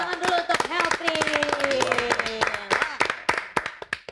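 An audience claps for a band, starting as a dense burst of applause and thinning to scattered individual claps, with some voices among them.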